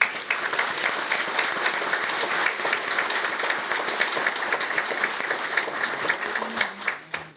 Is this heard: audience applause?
yes